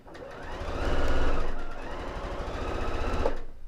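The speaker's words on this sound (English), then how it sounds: "that's just me sat at the sewing machine there." A sewing machine runs steadily while stitching quilt blocks, its needle pounding in a fast, even rhythm that swells slightly mid-run, close and alone.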